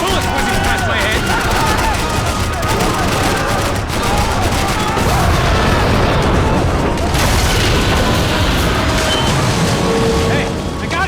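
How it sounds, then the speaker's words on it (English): Heavy gunfire rattles through a Max Payne 3 shootout in dense, loud bursts and booms, with bullets whizzing past, continuous for about eleven seconds. "Bullets whizzing past my head!"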